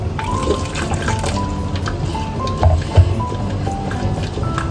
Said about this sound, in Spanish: Ahora le voy a poner agua caliente para que se disuelva